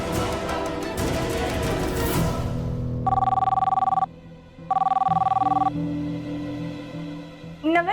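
A telephone rings in two long electronic bursts, loud and close, while a person calls the in-laws' home, with a short pause between the rings and quieter background sound before and after.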